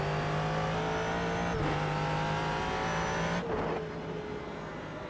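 Ford GT3 race car in a racing game at Sonoma, its mid-mounted engine holding a steady, loud drone with a sustained low tone that shifts slightly as it drives, then eases off somewhat near the end, with no talk.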